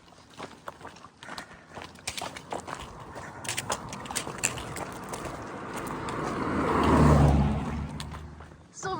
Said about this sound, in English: When cars come flying around